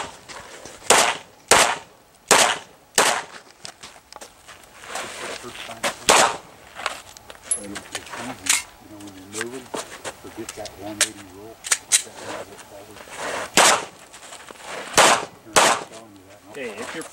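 Pistol gunshots at an IDPA shooting match ring out as sharp, loud cracks in irregular bursts of several shots, with people talking in the gaps between strings.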